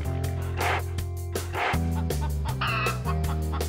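A toy chicken in a Playmobil police escape animation clucks repeatedly over loud, continuous cartoon background music, with no talking.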